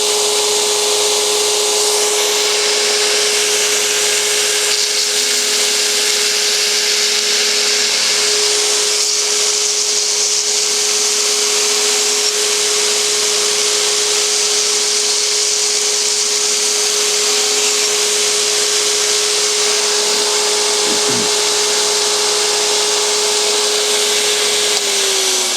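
Belt grinder running a 60 grit belt against a cowboy dagger's edge, a steady whining drone with grinding hiss that holds almost unbroken for about twenty-five seconds, briefly dipping near the end.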